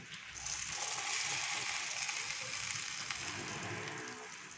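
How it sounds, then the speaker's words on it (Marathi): Cumin and mustard seeds crackle in hot oil for a chutney tempering, a steady close, loud hiss with faint popping throughout, no voices. "त्याच्यामध्ये फक्त मी जिरं आणि मोहरीची फोडणी घालणार आहे."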